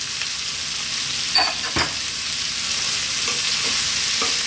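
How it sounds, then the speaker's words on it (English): Tofu and bean sprouts stir-fried in a wok, a steady broadband sizzle with a few sharp scrapes and clacks of the spatula tossing the food, loud and close with no talk. "And we're going to stir fry this around just for about another 2 to 3 minutes."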